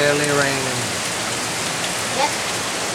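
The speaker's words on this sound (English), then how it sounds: "Now it's really raining." Heavy rain during Hurricane Ike pours down in a dense, steady hiss across the whole stretch, with a brief voice at the start and a faint higher sound near the end.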